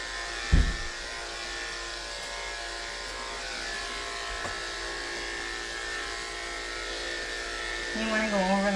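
Electric clippers buzz steadily in a continuous drone while shaving a matted cat during its first grooming, close and fairly quiet, with a brief thump early on and a shift in tone near the end.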